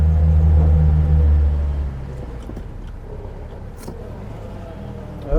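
A Reliant Fox straining for traction on a beach in mid-Wales, its engine droning loud and low for the first two seconds, then easing into a steadier, quieter rumble with some wheel and body noise.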